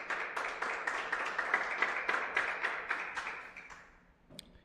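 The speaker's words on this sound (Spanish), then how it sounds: "Dele un aplauso al Señor." A church congregation applauds together, a dense steady clapping that holds for about four seconds before tapering off, with a faint tap near the end.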